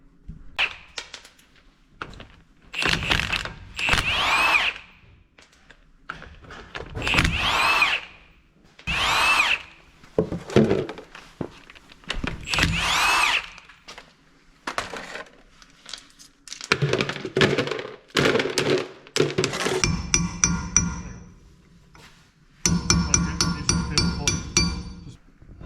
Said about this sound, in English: and now let's pull off the brake drum.